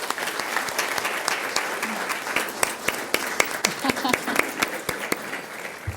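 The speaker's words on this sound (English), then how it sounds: "If we can give her a big round of applause." Audience at a school board meeting applauding a student artist, a smaller room of scattered individual claps with distinct sharp hits, moderately near, with a few faint voices mixed in.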